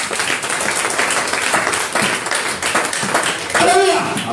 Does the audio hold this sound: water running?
no